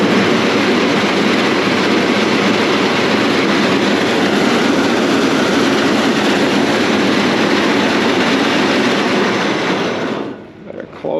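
A grain auger runs loud and steady for about ten seconds, a dense broadband mechanical roar that holds constant before cutting off abruptly near the end.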